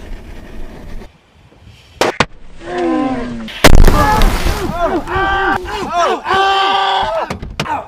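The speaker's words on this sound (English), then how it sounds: "The ceremonial passing of the Nissan Versa with this artillery shell." An artillery shell firework goes off beside a Nissan Versa with a sharp loud boom, followed by crackling, whistling bursts and pops in quick succession, while people shout and cheer over it.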